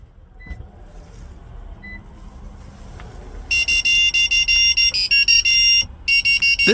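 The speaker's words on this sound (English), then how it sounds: "wait for a few seconds until you hear the beeping sound indicating programming is successful" Beeps confirm key fob programming in a 2007-2018 Lexus LS 460L after the push-start button is pressed: a low hum, then a fast series of loud, shrill electronic beeps in close bursts.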